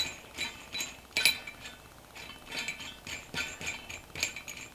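Faint metallic clinks and small scraping ticks as a washer and nut are fitted onto an eye bolt for a light project, a few light, irregular contacts up close in a quiet room.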